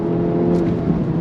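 A 2024 Acura Integra Type S, a front-wheel-drive hot hatch, accelerating hard, its engine a loud steady drone that fills the clip without a break, with no one speaking over it.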